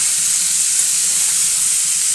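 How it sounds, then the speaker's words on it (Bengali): Shrimp fry in hot oil, giving a dense, continuous hissing sizzle that sounds close and loud and never breaks. "তো ইঁচড় ভাজাটা নামিয়ে আমি এরপরে চিংড়ি মাছটা ভেজে নেব।"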